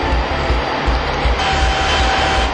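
Eurofighter EF-2000 Typhoon jet taking off on a scramble, a loud sustained engine roar with low rumbling pulses running steadily throughout, no voices.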